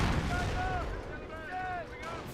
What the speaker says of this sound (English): that was a pretty good barrage there